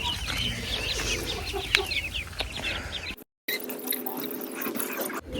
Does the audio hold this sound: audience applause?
no